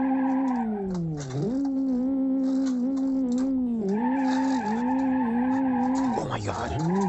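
A car in the BeamNG driving game spins a 360 after a clutch pop, its engine wailing through rising and falling revs while the tyres squeal and skid continuously for about seven seconds, loud and close.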